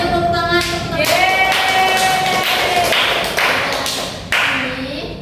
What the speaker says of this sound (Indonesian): Iya, beri tepuk tangan untuk